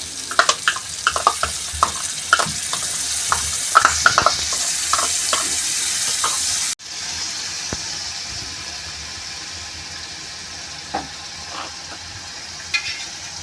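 Yogurt going into a pan of gatta curry sizzles and fries while a spoon stirs with repeated scraping clicks, loud and close; the sizzle drops back after a brief cut and the stirring carries on more gently.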